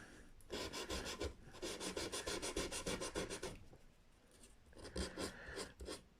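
A plastic, graphite-style guitar nut on a Telecaster is rubbed and polished in bursts of close, raspy scraping strokes with short pauses between them, with no voices.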